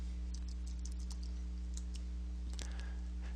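A terminal command is typed on a computer keyboard in a Linux teaching lab, with a scattered run of light key clicks over a steady electrical hum.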